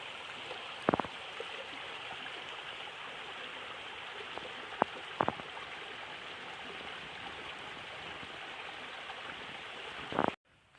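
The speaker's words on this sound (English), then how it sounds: "it's a pretty good sized creek here" A good-sized creek in Uwharrie National Forest flows with a steady, close hiss of rushing water, broken by a few faint clicks and knocks, with no voices.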